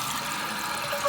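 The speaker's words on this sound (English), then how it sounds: "It flushed pretty good, and I didn't even use a lot of water." Toilet flushing with the flapper set to its lowest setting, a steady close rush of water running evenly for about a second with no other sounds.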